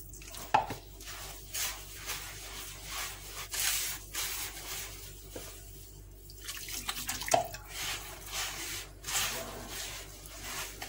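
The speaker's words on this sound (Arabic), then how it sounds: "غادي نبدا نضيف الماء" Water is poured into harcha semolina dough in a bowl, making a faint, intermittent splashing and trickling close by in a quiet room.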